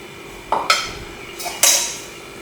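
Cowpeas being scooped and dished up into serving dishes for a rural breakfast: a few distinct clinks and scrapes of a spoon against pots and bowls, spaced apart and fairly close, with no talking.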